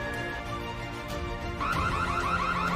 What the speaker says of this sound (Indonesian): Suara yang dihasilkan alarm tersebut sangat kencang, sehingga mengganggu veteran buta tersebut.